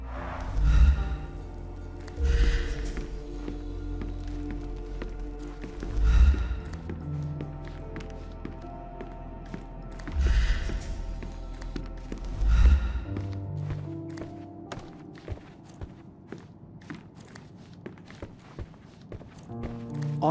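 Heavy footsteps thud from the attic upstairs in Sherlock Holmes Chapter One, a few loud, spaced impacts at first, then quieter tapping steps over a low ambient hum.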